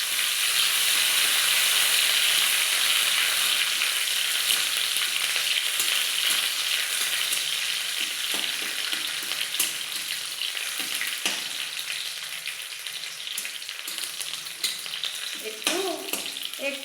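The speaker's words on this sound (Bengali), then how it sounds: "নিম পাতাটা আমি ভেজে নেব।" Neem leaves fry in oil in a pan with a steady, dense sizzle that holds constant throughout, close and fairly loud, with occasional soft stirring clicks.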